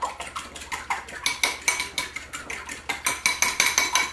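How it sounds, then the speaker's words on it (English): Rapid rhythmic whisking of eggs with a little milk in a bowl, metal tines clicking against the side in a steady fast beat, close and clear with no talk. "And just whisk them up."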